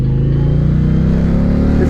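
A 2022 Indian Pursuit Dark Horse motorcycle engine in standard riding mode rumbles close up with a steady, throaty drone, holding high revs continuously without pause.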